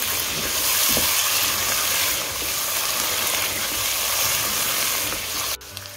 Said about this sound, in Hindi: अब हम इनको अच्छे से मिक्स कर लेंगे।